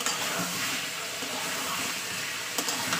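Chicken and potato pieces fry together in oil for a Bengali chicken kosha, a continuous dense sizzle close by, with a few louder spits and pops near the end.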